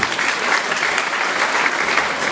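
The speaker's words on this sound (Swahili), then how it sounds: "Mujipige makofi kwa mama." A church congregation claps together in steady, dense applause, loud and close, sustained evenly throughout without talk.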